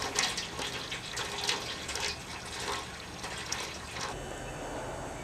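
Three gallons of 170-degree water drain down through the grain bed of an all-grain homebrew mash with no sparge. It makes a steady close trickle with fine splashing and dripping, and no voices.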